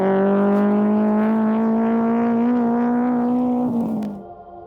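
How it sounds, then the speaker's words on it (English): A stock Toyota Corolla drifting on an oval track, its engine holding a loud, steady high-revving drone that climbs slightly in pitch, then drops off and fades near the end. "I'm going to try some drifting, see if I can't break something."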